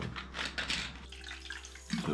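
Water splashing and trickling into a cup, a short close burst of bright, bubbly pouring with a faint drip toward the end.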